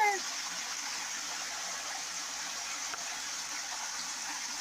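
Shower water runs steadily for a pet goose foraging in the shower, a constant hissing spray with faint speech at the start.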